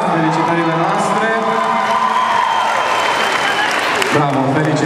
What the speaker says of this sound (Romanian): aplauze pentru coregraf, felicitările noastre